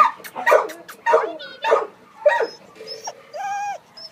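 Shepherd-beagle mix at an animal shelter, giving a series of sharp yips and barks followed by higher whining whimpers, close and fairly loud, with no talking.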